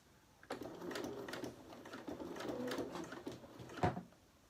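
A sewing machine stitches fabric flags for triangle bunting, running in close, steady whirring bursts with short pauses, then ending on a louder clunk.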